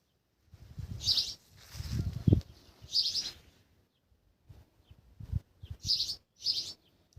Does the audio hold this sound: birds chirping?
yes